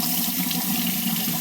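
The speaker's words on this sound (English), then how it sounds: "get your fresh water running." Fresh water runs steadily from a tap to rinse a water-resistant wristwatch after salt water or swimming, a close, continuous hissing splash with no break and no voices.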